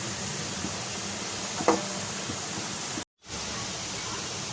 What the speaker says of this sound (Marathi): आपण याला परतून घेऊया आपण लसणाला परतून घेतला आहे